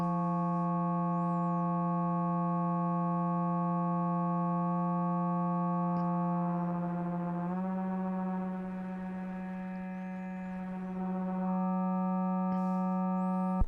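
A sustained buzzy synthesizer tone from a Haken Continuum with a distortion effect, gritty edged, holding one pitch, briefly dipping and thinning in the middle before returning.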